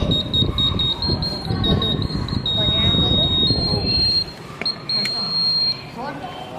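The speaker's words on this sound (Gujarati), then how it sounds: "બઝર વાગે છે." A vibration sensor alarm's buzzer sounds a loud, steady high-pitched tone, cutting in and out toward the end, over a voice talking and background noise.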